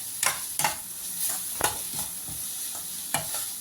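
Pumpkin halwa being stirred in a pan, a spoon scraping in repeated short strokes over a soft, steady sizzle, close and fairly quiet with no voices.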